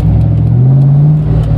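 A Lincoln Aviator-engine-swapped car driving, its engine droning loud and close as it pulls and revs up steadily, heard from inside the car.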